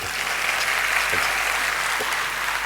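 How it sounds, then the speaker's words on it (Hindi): Steady applause from a crowd welcoming freshers at a university celebration, even and continuous across the short stretch, fairly soft. "तो ताली बजा के स्वागत करूँगा।"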